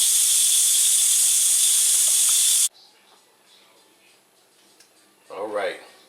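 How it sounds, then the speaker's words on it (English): Loud steady steam hiss jets from a pressure cooker's release valve while cooking beef and vegetable soup, cutting off abruptly after a few seconds, followed by quiet room tone and a short spoken word. "I'm releasing all the pressure out of it"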